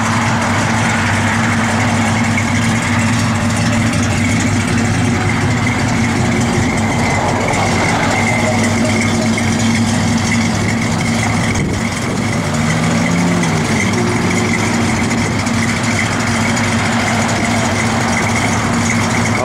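A 1966 Dodge Coronet sits idling nearby, its engine giving a loud, steady, low rumble with an even pulse that holds unchanged throughout, with no voices over it.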